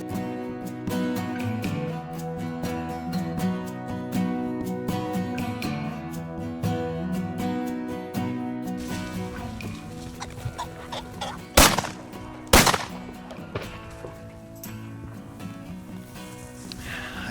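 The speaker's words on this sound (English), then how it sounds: "I missed them clean with the first shot." Double-barrel shotgun fired at rooster pheasants outdoors: two sharp, loud blasts about a second apart stand out after a stretch of rustling field noise and ambient sound.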